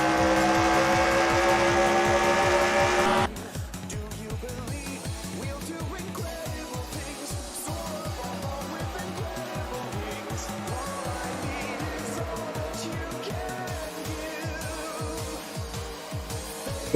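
Race cars lapping a track in the NR2003 racing game, their engines droning steadily with a dense, buzzing rasp under a continuous loud wash, a brighter roar at the start that then settles into a constant pulsing hum.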